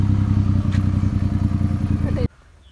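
Maruti 800 engine with a modified throttle body running loud and close, a rough rapid pulsing idle-to-rev drone with clattering texture that cuts off abruptly near the end, leaving quiet background.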